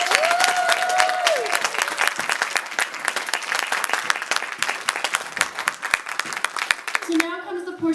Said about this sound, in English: Why don't we give them all another round of applause?